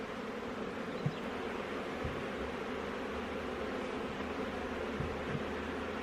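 Honey bees humming steadily in an open apiary hive during a spring inspection, a constant buzzing drone throughout with a few faint knocks of frames being handled.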